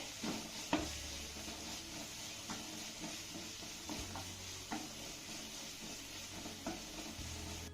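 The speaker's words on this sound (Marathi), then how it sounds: "हे सर्व साहित्य आपल्याला छान असं मौसूद होईपर्यंत परतून घ्यायचं आहे" Steady sizzling in a tadka pan with repeated scraping and stirring strokes of a spatula as chopped vegetables are sautéed, close and continuous, with no one speaking.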